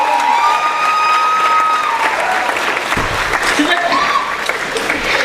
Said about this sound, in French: On va applaudir pour lui. Allez, on y va, applaudissez.